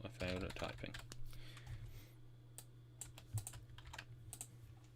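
Computer keyboard typing during a chemistry development stream, a burst of quick clicking keystrokes up close at the start, then scattered single key taps over a steady low hum.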